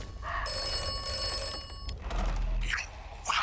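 An old phone booth telephone in the game Atomfall rings with a shrill, continuous electric bell for about a second and a half, then stops, leaving a quiet ambient hum and some faint rustling.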